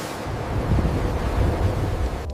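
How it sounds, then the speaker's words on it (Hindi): Stormy weather at sea around a boat: a loud, continuous rush of wind and crashing waves with no pauses, heavy and close throughout. "अचानक मौसम खराब हो गया और तेज तूफान आने लगा।"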